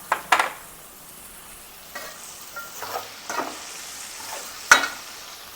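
Ivy gourd, bottle gourd and tomatoes sizzle quietly in a pan for sambar, with several sharp scraping stirs of a utensil against the pan at irregular intervals.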